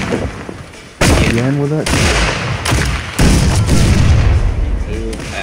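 Cannons firing grape shot in the pirate ship game Blackwake, heavy booms landing near and loud in quick succession while a voice talks over them.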